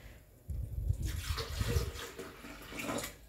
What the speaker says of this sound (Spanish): Ahora le vas a echar el agua que te quedó en el vaso, échale a